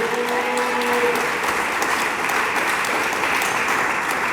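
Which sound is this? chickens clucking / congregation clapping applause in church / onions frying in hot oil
congregation clapping applause in church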